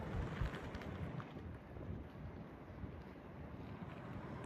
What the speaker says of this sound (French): Ah, il y a le vent, il vient par là.